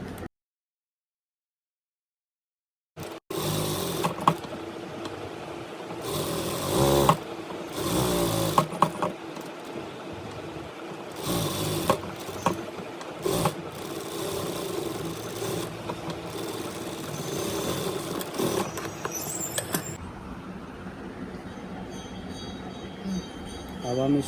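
Electric sewing machine running in steady mechanical bursts while stitching the three corners of a cloth salwar waistband belt, close and fairly loud with short pauses between runs, after a silent opening.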